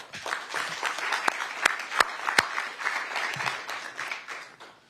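Applause from an audience at an Orange County COVID-19 press briefing, moderate and steady for about five seconds with a few louder individual claps standing out, heard alone without speech.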